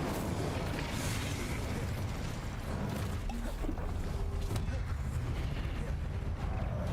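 Fiery Incendio spell cast in Hogwarts Legacy, a continuous crackling, rumbling burst of flame with scattered pops and heavy low-end roar, sustained at moderate loudness for the whole stretch.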